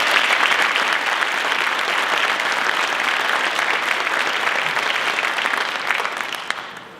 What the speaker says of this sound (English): So let's get a round of applause to all of them as well.